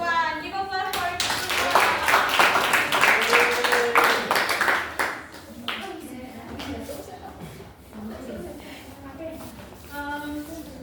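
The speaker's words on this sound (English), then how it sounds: "Give applause for group" Classmates clap for a student group in a classroom, a lively burst of applause with children's voices that thins out midway, after which a teacher's speech continues over scattered claps.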